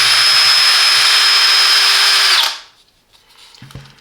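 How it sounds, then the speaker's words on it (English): A Parkside Performance PPBSA 20-Li A1 20V cordless drill runs at a steady high-pitched whine for about two seconds, then winds down and stops, followed by a couple of faint handling clicks. "you will have more precise control of your power tool when you are drilling."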